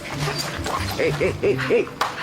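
A cartoon dog barks and whimpers in a run of short yips, heard close and mixed with voices talking over it.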